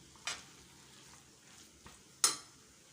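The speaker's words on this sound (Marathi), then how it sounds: "सर्व छान मिक्स झाल्यानंतर यामध्ये आता आपण पाणी टाकूया" Chana curry masala cooking in a pan, with a few short sizzling bursts as liquid hits the hot masala, the loudest near the end, against a quiet background.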